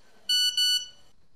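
Phone message notification beep, two close, bright electronic tones in quick succession with a short tail, heard alone over a quiet background.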